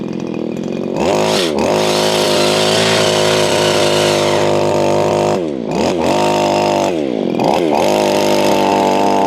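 A VEVOR 4-in-1 compact gas string trimmer cutting grass, its two-stroke engine loud and close, droning steadily with several quick throttle dips and revs.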